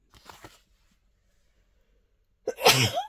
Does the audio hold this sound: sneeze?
yes